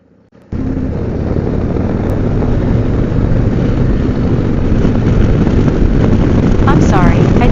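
A 2024 Harley-Davidson Street Glide 117 motorcycle ridden in third gear gives a loud, steady engine roar mixed with heavy wind rush, close to the rider and continuous after a brief quiet start.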